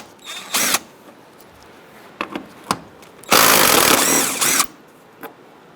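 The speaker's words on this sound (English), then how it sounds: "I'm going to use a 10mm socket. Take out this bolt on this side and the one on the other side." A power tool spins a 10mm socket on a bumper cover bolt of a 2010-2013 Kia Soul, sounding in short whirring bursts followed by one longer run of a second or so, close by with quiet gaps between.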